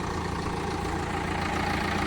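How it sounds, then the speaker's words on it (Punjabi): A backhoe loader's heavy diesel engine idles steadily with a low, continuous rumble, close by and unbroken, with no voices over it. "ਇਹ ਚੱਲ ਰਹੀ ਹੈ ਜੀਸੀਬੀ ਆਪਣੀ"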